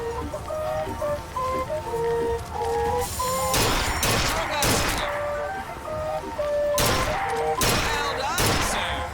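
Gunshots crack at a fairground shooting gallery in BioShock Infinite, two clusters of sharp, loud shots over a tinkling carnival tune playing steadily in the background.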